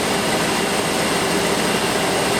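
A Ford engine with an EEC-IV ignition misfire cranks on its starter motor, heard as a loud, steady, continuous mechanical whirring drone with no pauses and no voices.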